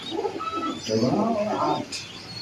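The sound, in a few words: pigeons cooing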